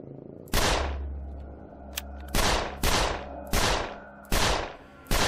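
Gunshots from a gun in the video game 13 Days in Hell: about six loud, sharp shots fired at irregular intervals, each followed by a short decaying tail, with no talk.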